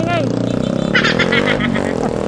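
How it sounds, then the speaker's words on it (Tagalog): A motorcycle with an open-pipe exhaust drones loudly with a rough, open exhaust note on a highway while people talk over it. "Ito, maingay. Open pipe."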